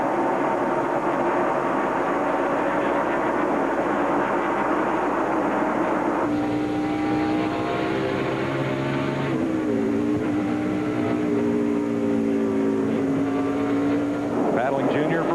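NASCAR Winston Cup stock car engines roar at Bristol Motor Speedway during the Food City 500, a continuous loud drone with a throttle working through a turn, under steady race commentary.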